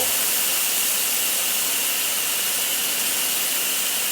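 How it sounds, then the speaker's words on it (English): A McCulloch 1375 handheld steamer gives off a steady, loud, unbroken hiss of escaping steam at close range with no pauses. "we're gonna see how long the steam lasts"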